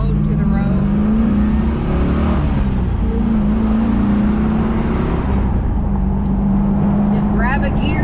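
A 2002 Chevrolet Camaro SS 35th Anniversary under way, its engine droning and rising as it shifts gears, with road roar throughout and someone talking over it.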